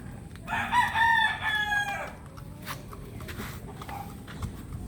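A White Kelso rooster crows once up close over steady farmyard background noise, followed by a few softer clucks and scattered fowl sounds.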